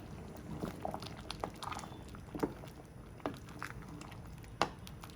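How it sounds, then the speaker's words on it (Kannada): Dal with potatoes, carrots and beans simmers in a pot for vegetable sambar, a quiet bed of scattered bubbling pops and soft liquid gurgles at an irregular pace. "ಬೇಳೆ ಕಟ್ ಜೊತೆ ತರಕಾರಿ ಕೂಡ ಚೆನ್ನಾಗಿ ಬೇಯ್ತಾ ಇದೆ"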